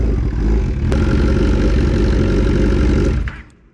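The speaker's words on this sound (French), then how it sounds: "démarrage à froid, tentative réussie" A turbocharged motorcycle engine, a Hayabusa or ZX10R turbo build, idles after a cold start: a loud, steady, close rumble that holds for about three seconds before cutting off abruptly, with no talk.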